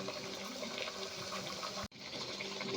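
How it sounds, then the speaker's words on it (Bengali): Methi puris deep-frying in hot white oil give a continuous bubbling sizzle, close and steady, broken by one very brief dropout. "এবারে আমি লুচিগুলো ভেজে নেব"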